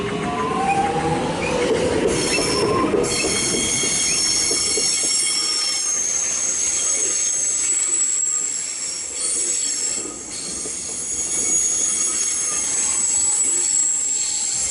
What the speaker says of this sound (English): Apologies about all that screeching, but that's the nature of a station like this.